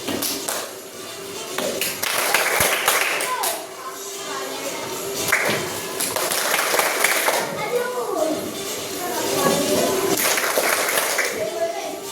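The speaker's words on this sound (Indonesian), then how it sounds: "kita tepuk tangan dulu" Schoolchildren clap their hands together in a classroom in short rhythmic bursts that repeat several times, mixed with a teacher's voice and kids' chatter between the rounds.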